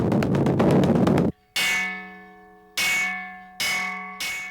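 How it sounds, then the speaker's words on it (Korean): A large bronze Buddhist temple bell at Seonam Temple struck to announce the evening service, four separate heavy clangs at slow intervals, each ringing out in a long humming decay, after a short burst of rhythmic knocking. "여느 날처럼 저녁 예불을 알리는 타종이 시작됐다."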